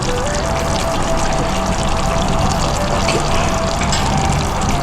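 Curd is poured into a chicken biryani mix, giving a steady, close, continuous pouring wash of wet liquid sound that runs evenly throughout with no talk.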